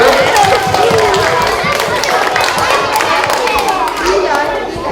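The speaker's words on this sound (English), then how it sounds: "let's give them all a round of applause" Applause and cheering from a church audience, a steady wash of many hands clapping with crowd noise and voices mixed in, loud and sustained throughout.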